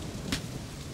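Heavy rain pouring steadily as a broadband wash that fills the whole second, with one brief louder splash or rumble near the start.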